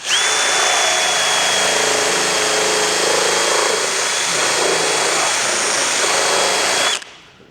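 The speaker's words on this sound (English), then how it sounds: "Let me get a flap disc and I'll just take it round a little bit just to sort it." Loud, steady high-pitched whine of a flap disc on an angle grinder working a twin exhaust pipe on an MK5 Caddy van, held continuously for about seven seconds before cutting off abruptly.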